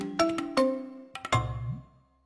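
A short notification bell sound effect rings out as a few bright chime strikes, the last tone ringing on and fading away quietly.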